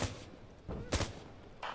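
Mortar fire in Insurgency: Sandstorm comes through as a few distant, muffled thumps and booms spread over a couple of seconds, with no speech over them.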